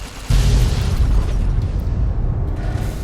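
An explosion as a missile is destroyed in Fallout: New Vegas, a sudden loud low boom that hits at once and rolls on as a heavy sustained rumble throughout.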